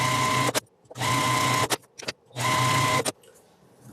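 A sewing machine stitches a quarter-inch seam around a quilt block square, running in three steady bursts of fast mechanical whirring with brief pauses and clicks between them, close and loud.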